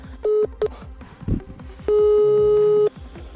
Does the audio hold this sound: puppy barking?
no